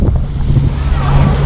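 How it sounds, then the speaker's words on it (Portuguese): Strong wind buffets a boat heading out to open sea on a summer trip in Europe, loud rumbling gusts battering the microphone over low roaring water, steady throughout. "Com certeza tá ventando bastante"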